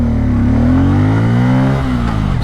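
A motorcycle pulls away in first gear, its engine note climbing steadily in one loud, close, unbroken surge of acceleration.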